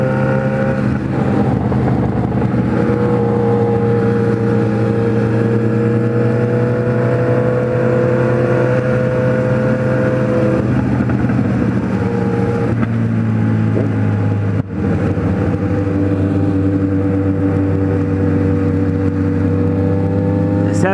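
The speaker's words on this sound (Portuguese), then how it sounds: "Sinfonia dos quatro cilindros." A Kawasaki Z1000 four-cylinder motorcycle engine runs loud and close, holding a smooth sustained drone that swells slightly, with a brief dip near the end and someone talking faintly over it.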